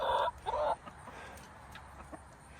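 A runaway chicken gives two short clucking bursts at the start, fairly near, then fades into quiet outdoor background with a few faint scattered sounds.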